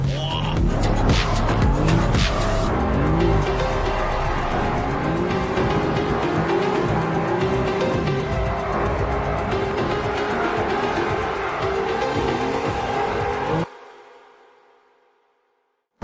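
An Audi RS3 drifting on dry asphalt, its engine revving hard and tires squealing and skidding continuously for over ten seconds, loud and close, before cutting off abruptly.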